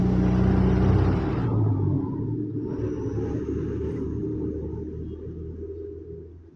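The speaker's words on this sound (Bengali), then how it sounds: "আমি ওস্তাদ অ্যাক্সেলেটার মোড়াইতেছি, কিন্তু আমি গিয়ার দিই নাই" A bus engine in a driving video game revs in neutral, a loud, deep, steady rumble that starts strong, dips slightly, then slowly fades, with no talking.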